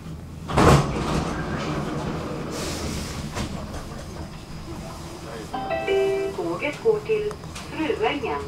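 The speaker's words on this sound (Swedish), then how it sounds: "Dörrarna stängs." Stockholm subway train doors sliding shut, a short thump among rumbling car noise, followed by a recorded announcement voice and a rising chime-like tone.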